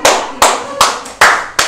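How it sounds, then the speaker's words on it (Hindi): A classroom audience at a lecture claps hard in unison, five sharp, loud claps evenly spaced, each ringing briefly into the room before the next. "ताली मारो जोर से एकदम।"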